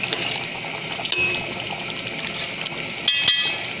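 Water pours into a pot of chicken Bombay biryani, a steady bright rushing stream that continues for several seconds, close up and alone, with a couple of small knocks near the end.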